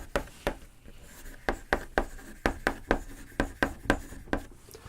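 Pen writing on paper while prime factors are worked out, a quick run of light rhythmic scratching strokes, close and quiet, with no talk.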